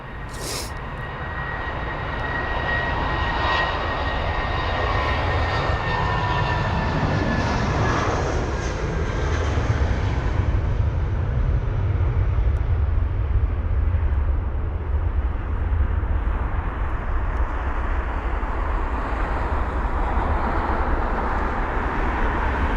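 A British Airways Airbus A320-200 jet departs for Salzburg from London Heathrow, its engines rising from a roar into a steady, loud rumble that holds for over twenty seconds with no voices.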